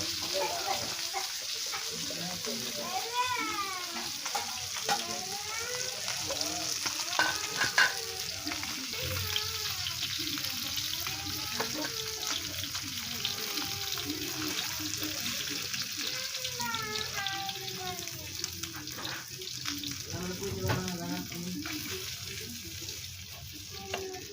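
Koi fish fry in oil in a pan with a steady crackling sizzle and occasional stirring, while a person talks over it throughout.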